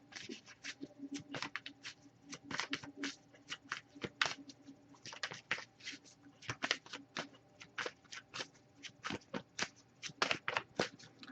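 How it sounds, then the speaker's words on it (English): Tarot cards being shuffled by hand, quick irregular riffling and flicking bursts close up, soft and continuous with brief pauses and no talking. "I'll give it a few more shuffles."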